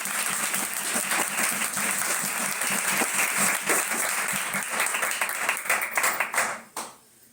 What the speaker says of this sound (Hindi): खुदावंद के जलाल के लिए पुरजोश तालियां बजाएं।